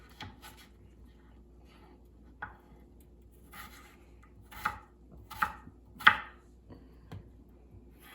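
A knife chopping potatoes on a cutting board for soup, with scattered sharp chops at irregular intervals, several louder near-field strikes in the middle, over a low steady kitchen background with no talking.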